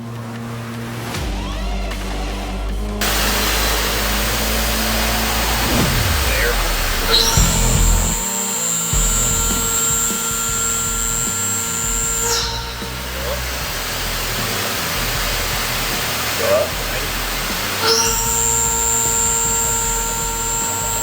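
CNC mill cutting metal with a Gorilla Mill Yeti end mill: a loud, sustained machining roar with high whining tones that start, stop and shift as passes change, heard close with voices talking over parts of it.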